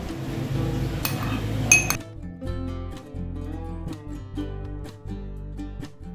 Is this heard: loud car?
no